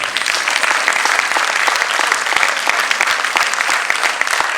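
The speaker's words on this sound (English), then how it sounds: "I want you to clap 23 times for them" A crowd claps together in a dense, steady burst of applause, loud and sustained throughout.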